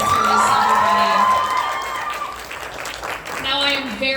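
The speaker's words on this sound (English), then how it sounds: "One more round of applause for Alice Walters, everybody." A youth theater cabaret audience claps and cheers loudly after a performer, with whoops and shouts at first, the applause easing down and then swelling again briefly, voices mixed in throughout.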